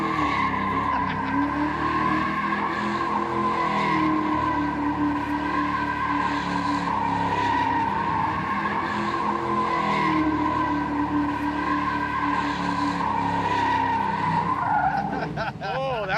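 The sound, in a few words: car doing a donut with tires squealing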